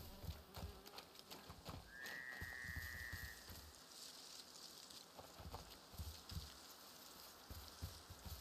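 Horses in the video game A Plague Tale: Innocence clop and shuffle amid steady rain, with a brief whinny-like tone in the middle, heard at moderate distance under game ambience.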